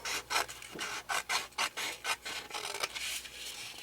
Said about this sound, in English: I'm just going to cut from the bottom all the way up to that 3-inch mark